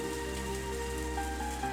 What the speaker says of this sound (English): Battered by the freezing rain.